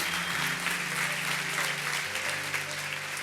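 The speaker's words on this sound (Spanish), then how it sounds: "Den un aplauso a Dios." A church congregation applauds God during a Spanish-language sermon; dense continuous clapping fills the room over sustained low musical tones from instruments.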